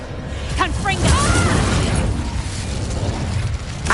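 A Confringo fire spell explodes in the Hogwarts Legacy video game, a loud, dense burst with a rumbling low-end roar that holds and slowly fades, alongside a shouted voice.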